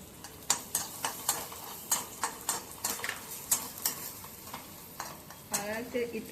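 Vegetables stir-fried with turmeric, coriander powder and chili for a cheese veg frankie, a spatula scraping the pan in a steady rhythm of sharp strokes over a continuous close sizzle.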